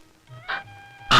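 A man imitates a cat's meow with a drawn-out, wavering nasal cry, then a brief louder burst, up close in a quiet room.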